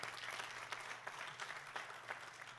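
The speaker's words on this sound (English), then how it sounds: "So I'll give you a round of applause for that." Audience applause at a GED graduation ceremony at Maya Angelou Public Charter School, a steady wash of many hands clapping at moderate distance, continuous for a few seconds with no talk.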